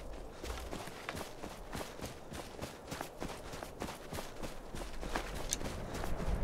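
Goat running away in the video game Skyrim: a rapid, steady patter of hoof-like footsteps with soft clicks, continuing throughout and growing slightly louder toward the end, with no talking.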